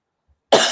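A single harsh cough bursts out after a half-second of silence, close and loud, with no other sound around it.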